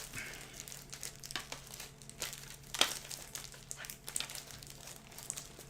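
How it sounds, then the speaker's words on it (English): Pokemon trading cards being shuffled make soft, papery crinkling and flicking at close range, faint and irregular with small scattered rustles. "All right, shuffling these up."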